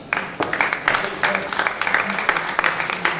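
An audience applauds a volunteer at a live stage show with uneven, sparse clapping, individual sharp claps standing out among scattered hands for a few seconds.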